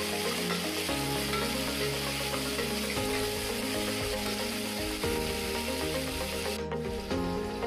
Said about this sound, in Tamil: இதையும் நல்லா வதக்கி எடுத்துக்கலாம்.